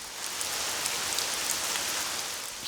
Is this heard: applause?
no